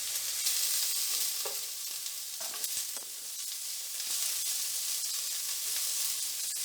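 Vegetables stir-frying over high heat for Schezwan fried rice, a dense, continuous sizzle with a few scraping stirs of the pan, close and fairly quiet, with no voices.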